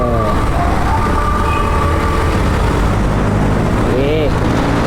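Steady, loud road traffic on a busy street near an LRT line in Pasay, recorded from a moving motorbike with a dense engine rumble throughout, brief horn-like tones and a voice speaking over it.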